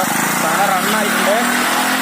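A 150cc bike engine fitted to a custom-built trike runs steadily nearby, a continuous buzzing drone heard under someone talking throughout.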